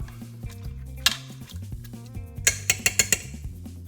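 Chicken rice being stirred in a pot, with clinks and scrapes of a spoon against the metal and a quick run of sharp taps near the end, close and fairly quiet.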